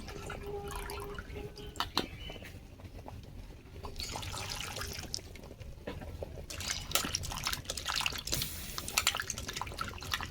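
Water being drained off cut elephant foot yam and the pieces rewashed, a close run of splashing, dripping and trickling with handling clatter, uneven and wet, no voices.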